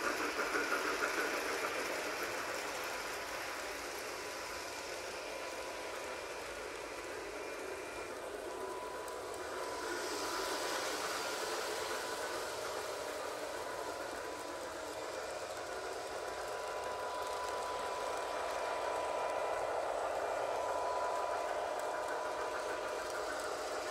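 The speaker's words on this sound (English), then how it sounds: "now that we got a train that's actually running on this loop" Lionel model train running a loop on a floor layout, a steady whirring, clattering drone of the motor and wheels on track that carries on continuously with slight rises and falls, with no voices.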